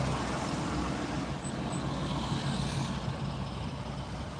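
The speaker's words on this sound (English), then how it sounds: "Motor sounds, yeah, it sounds good. It was that white truck right there on the left." A low, steady engine rumble from a heavy truck idling nearby, with road noise around it and no talking.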